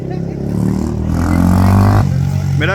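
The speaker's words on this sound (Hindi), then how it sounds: "तो अब्दुल्ला भाई दोबारा जा रहे हैं।" A dirt bike engine revs up and pulls away close by during an off-road ride, a rising motor drone that swells then cuts off, with people's voices mixed in.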